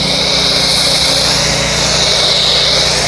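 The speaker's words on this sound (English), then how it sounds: "Using the Ryobi pressure washer." Ryobi pressure washer rated 1900 psi and 1.2 GPM running continuously up close, a loud steady motor drone with broad spray hiss and no pauses or talking.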